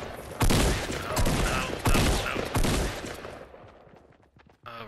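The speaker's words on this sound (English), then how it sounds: "he's shooting at me now" Heavy gunfire in Fortnite, several loud, close bursts of rapid shots separated by brief pauses, trailing off toward the end.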